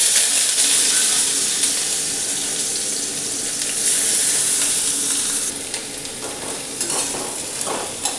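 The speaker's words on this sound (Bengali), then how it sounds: "তেলটা গরম হলে আগে পেঁয়াজটা দিয়ে দিচ্ছি।" Onions are frying in hot oil in a wok for a chickpea curry. A loud, close, continuous crackling sizzle fills the whole stretch, with scraping stirs and clinks toward the end and no voices.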